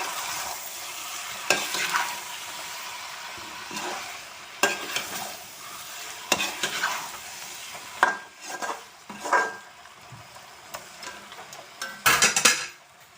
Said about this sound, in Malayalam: തുറന്നിട്ടൊന്ന് ഇളക്കി കൊടുക്കുകയാണ്